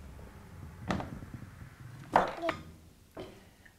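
A knife thunks down on a cutting board a few times at irregular intervals, hard chopping sounds as a pie pumpkin is cut into big chunks, over a quiet kitchen background.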